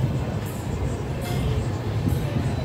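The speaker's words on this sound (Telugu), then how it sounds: "మన ట్రైన్ అయితే కజీపేట్ జంక్షన్ నుండి అయితే బయలుదేరిపోయింది" Train pulling out of Kazipet Junction station, a steady loud rumble of wheels and carriages with rattling bursts and hiss, heard from on board without talk.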